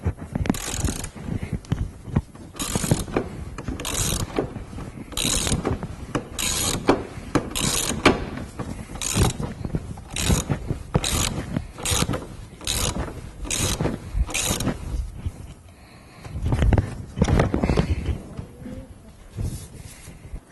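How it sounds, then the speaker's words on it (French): Socket ratchet fitted with a universal joint loosening the oil filter on a Ford Fiesta, giving a long series of close, regular ratcheting clicks with brief pauses between strokes. "Alors on prend la douille et le cliquet avec le cardan."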